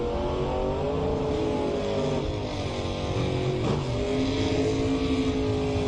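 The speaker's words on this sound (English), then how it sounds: "Cole Castile having no trouble doing the huge wheel stand." A drag racing car roars at full throttle, launching into a huge wheel stand at a $10K Diamond Days race, a loud sustained engine howl with rising and shifting pitch across the run.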